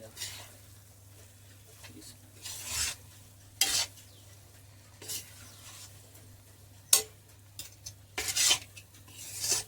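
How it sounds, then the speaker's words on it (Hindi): Flour being stirred and roasted in ghee in a pan for gond and dry-fruit laddu, heard as intermittent scraping, rasping strokes at close range over a low steady hum. "ये तो अब जाके घी पूरा हुआ है। अब मैं इसको फटाफट पीस लूंगी, नहीं बना, इसको फटाफट भून लूंगी।"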